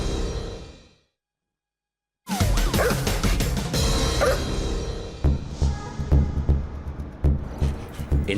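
A police sniffer dog on a drug search barks in short, repeated bursts close by, after a moment of silence, with background bustle.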